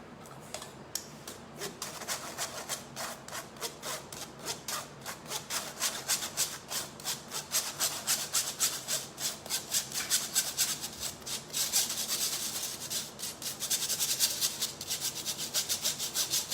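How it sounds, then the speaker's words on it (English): Flour and baking powder sifted through a metal sieve into a bowl, a steady rhythmic scratching and rubbing with quick repeated strokes, fairly close and continuous, no talking. "I will take one bowl and in which I will sift 53 grams of flour and I will put 3 grams of baking powder."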